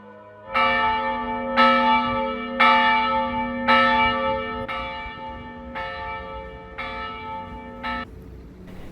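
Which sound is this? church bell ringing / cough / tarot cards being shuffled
church bell ringing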